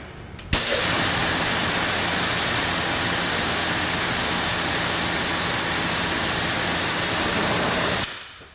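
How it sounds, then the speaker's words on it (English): An Adam's Pro Series electric pressure washer sprays water in a car detailing setting, starting abruptly with a loud, steady hissing rush that holds for about seven seconds before cutting off. "it feels like a ton of water coming out"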